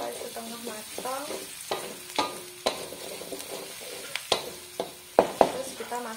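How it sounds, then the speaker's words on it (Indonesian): Cauliflower and onion stir-fried in a pan for a cauliflower and greens dish, giving a steady close sizzle broken by a series of sharp scraping and clattering stirs, with a voice speaking intermittently over the cooking. "ditumis sampai setengah matang."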